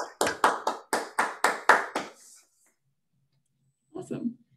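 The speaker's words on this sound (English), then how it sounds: "and then we'll clap." An online seminar audience claps over a video call, about eight quick sharp claps in a ragged burst lasting two seconds, then silence and a short faint clatter.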